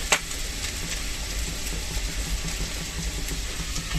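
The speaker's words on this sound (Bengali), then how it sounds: "এখানে ধর আলু ভাজা।" Potatoes frying in a pan for Bengali aloo bhaja give off a steady, unbroken sizzling hiss that holds at an even level throughout, with a few faint clicks and no voices.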